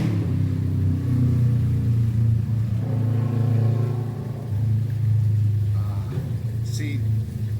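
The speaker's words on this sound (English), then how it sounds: "our motorcycle neighbor is going to go by here in a second" A motorcycle engine drones steadily nearby, swelling and holding as it passes, with voices talking over it.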